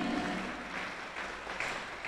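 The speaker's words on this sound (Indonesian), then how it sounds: "Tepuk tangan yang meriah untuk acara kita ini." Applause opens a tutorial session and public lecture, a brief, moderately faint patter of many hands clapping together with a little voice at the start.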